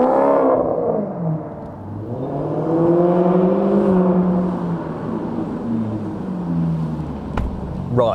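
Maserati Quattroporte fitted with a new exhaust revs under load, its deep engine note rising and falling in long sweeps, loud and close, with a brief sharp click near the end.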